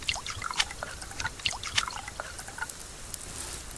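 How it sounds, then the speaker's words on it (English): Water being collected in the survival game Subsistence, a string of light trickling drips and splashes, irregular and close, fading toward the end, with no voices. "we're going to go collect water now"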